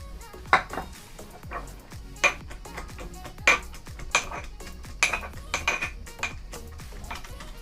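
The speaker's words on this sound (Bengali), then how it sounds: "হামানদিস্তায় আমি লঙ্কাগুলো দিয়ে একটু ছেঁচে নেবো" Chillies, garlic and ginger pounded in a mortar and pestle, sharp irregular knocks of stone or metal repeating closely, with clinking dish sounds and no talking.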